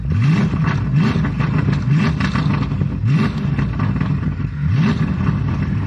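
A Lamborghini Urus in sport mode gets short blips of throttle in neutral, its engine rising in repeated rev sweeps roughly every one to two seconds, loud and close with no talk over it.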